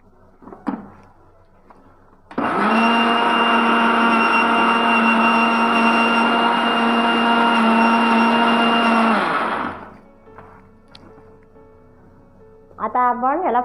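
An electric mixer grinder grinds fresh coriander in a steady loud whine that runs for about seven seconds before spinning down, with brief kitchen clatter and a voice before and after.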